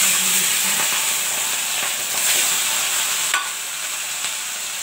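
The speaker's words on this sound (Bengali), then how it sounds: "দেখুন মাছ ভাজা হচ্ছে।" Katla fish frying in a pan of hot oil, a steady close sizzle and hiss with soft crackles and a few brief spits, no voices.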